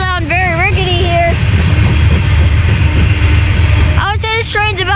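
Rickety CSX hopper cars of a long, slow freight train rumble by close at Saint Denis station in Halethorpe, Maryland, a heavy continuous low roar, with someone talking over it at the start and again near the end.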